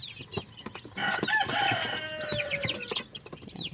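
Pet chickens cluck and chirp at close range, with overlapping rising calls and short bursts from several birds in a small coop.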